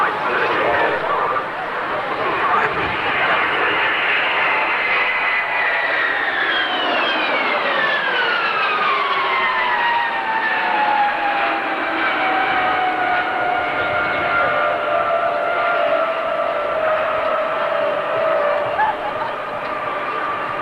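Loud aircraft engines roar overhead at an air display, their pitch sliding downward as the plane passes, with a voice talking underneath.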